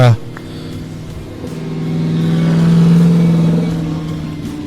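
A BMW drift car's engine revs out at a drift park, a loud, rising and falling drone with harmonics swelling in the middle and easing off, heard beneath a commentator's voice.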